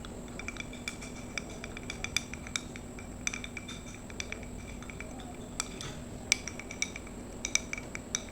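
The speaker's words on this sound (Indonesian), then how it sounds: "Kita aduk terus." Metal spoon stirring a homemade kitchen chemistry solution in a glass, giving faint, irregular clinks and taps against the glass over a steady low background hum, with no voices.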